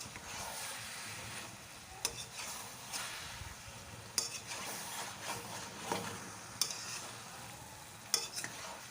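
Cabbage and sugar fry in a pan for a vegetarian Bengali cabbage dish, with a steady sizzle and a scraping stir stroke roughly every two seconds, all close by.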